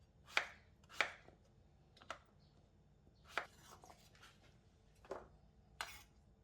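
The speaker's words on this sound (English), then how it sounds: "Slice off the skin and cut into small cubes." A knife chops pumpkin into small cubes on a cutting board, seven sharp, distinct cuts at an uneven pace, close and quiet with no other sound.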